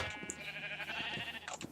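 Sheep on a Minecraft farm bleat in a few short nasal calls over a faint ambient background, quiet and close with no talking.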